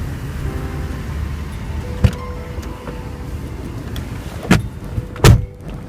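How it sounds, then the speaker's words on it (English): The doors of a 1989 Mercedes-Benz 560SEL sedan shut with solid, heavy thuds, one around two seconds and two more near the end, over a low, steady background hum. "The bank vault sound these doors make on this car is just incredible."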